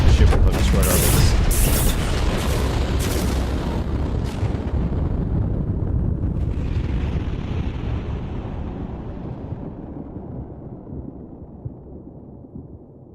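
Heavy booming explosions as an attacking ship destroys a base in the mech shooter Hawken, loud at first and then slowly fading into a long rumbling decay, with talk over it.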